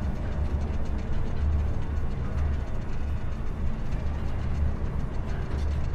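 Continuous low droning rumble of a monorail train carrying the player in Star Wars Jedi: Survivor, steady and even with soft periodic swells and light mechanical rattle, no voices.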